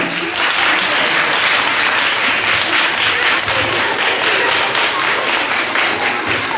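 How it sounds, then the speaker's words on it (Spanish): Audience applause at a flamenco performance by students of a municipal music school, a dense, steady wash of many hands clapping throughout at high level, with no talk over it. "muy bien, un aplauso, por favor"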